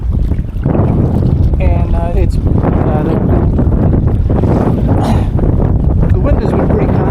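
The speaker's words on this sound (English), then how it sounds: "the wind has been pretty constant" Strong wind roars across open water off Pine Island, Florida, during a small boat ride, a loud constant rushing buffet on the microphone with someone talking over it.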